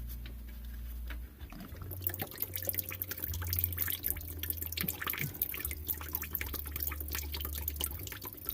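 Diesel fuel drains from the fuel filter drain plug of a 2.8 Duramax in a Colorado ZR2, a steady soft trickle and dripping of liquid heard close up, with no talk.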